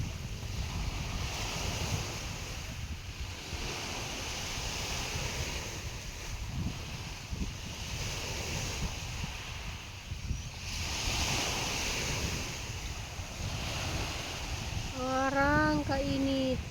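Wind gusts and rolling sea waves at a breezy seaside spot, a steady broad roar with wind buffeting the microphone, no voices.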